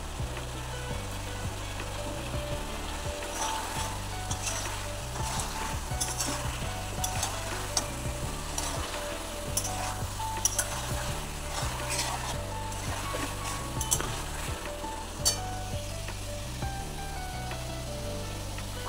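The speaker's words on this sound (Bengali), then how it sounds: "চিকেনটাকে মশলার সাথে খুব ভালো করে কষিয়ে নিচ্ছি।" Chicken sautéed with spices in a pan, stirred continuously: dense sizzling with repeated scraping and knocking of the spoon against the pan, a low steady hum underneath, nobody speaking.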